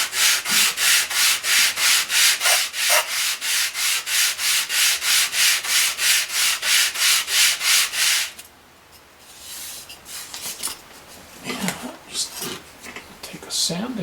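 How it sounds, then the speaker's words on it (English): Steady back-and-forth strokes of a sanding block rasp rhythmically up close on an N scale model part, then stop and give way to quieter scraping and handling noises. "Take a sanding block here, do the front."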